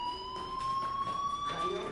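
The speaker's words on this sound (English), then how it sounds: "Hey, do you hear that fire alarm?" Fire alarm ringing in the video game Life is Strange, a steady electronic tone with bright harmonics sounding continuously throughout, fairly loud over a background of faint game ambience.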